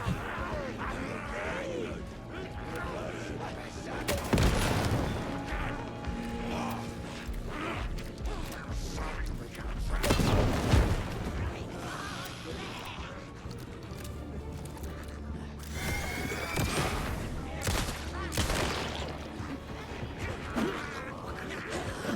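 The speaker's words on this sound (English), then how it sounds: "it's flare gun time" A flare gun in Alan Wake 2 fires twice, each shot a loud, sharp burst well apart from the other, over rumbling game ambience with someone talking in between.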